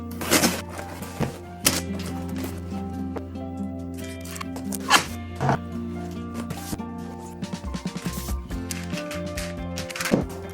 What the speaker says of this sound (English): Now let's go ahead and close up the box.